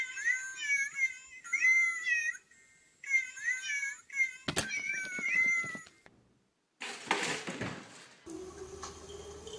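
Several cats meow in a row, clear and close, with short pauses between the calls. Near the end come a sharp knock, a brief rustling scuffle and a steady hum.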